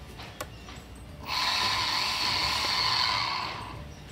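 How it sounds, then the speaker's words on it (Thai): An RC airplane's electric motor throttles up into a loud, steady high whine that holds for a couple of seconds and then eases off, heard alone after a quiet start. "ทีนี้ก็ลองเร่งมอเตอร์ดูนะครับ"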